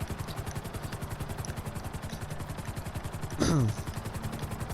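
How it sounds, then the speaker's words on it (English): Helicopter in the video game GTA 5 with steady, fast rotor chopping throughout, close and even, and a short louder whooshing burst near the end. "So now let's land the helicopter to where we wanted to land."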